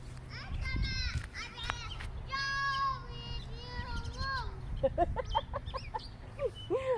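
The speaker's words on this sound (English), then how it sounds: "narinig ko dito banda ang mga birds" Birds calling outdoors near a home, with repeated chirping and squawking phrases, along with chicken-like clucks, heard over children playing and talking and nearby adult voices.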